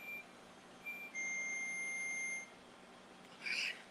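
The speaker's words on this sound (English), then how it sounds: "the timer's going off" Kitchen timer going off in a quiet room, a few thin electronic beeps followed by a longer steady tone and a final brighter chirp, faint against low background hum.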